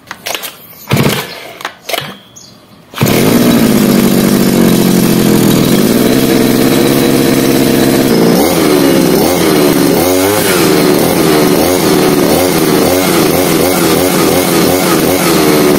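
A straight shaft grass trimmer's small two-stroke engine catches after a few pulls, then runs loud and steady at close range, settling into a buzzing idle with rhythmic pulsing toward the end.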